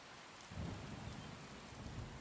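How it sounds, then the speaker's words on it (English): Rain and rolling thunder in Skyrim survival mode, a steady faint wash of rainfall with a low rumble swelling midway and lingering, distant and quiet, with nobody speaking. "The rain can stop now."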